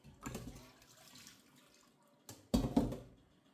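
Banga palm nuts are rinsed in water in a kitchen, giving two short bursts of sloshing and splashing separated by quiet, close by and moderately loud.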